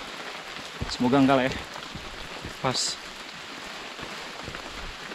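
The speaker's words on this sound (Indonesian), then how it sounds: "Untungnya hari ini nih masih hujan-hujan cantik aja" Light rain patters steadily throughout a mountain hike on Gunung Patuha, a soft broadband hiss of drops on surfaces, while a person speaks briefly twice over it.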